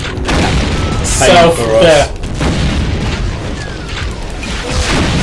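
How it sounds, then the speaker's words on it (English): A plasma gun fires in Brutal Doom, giving loud booming bursts with a warbling electronic tone, while someone talks over the shots. "Change gun. Plasma gun."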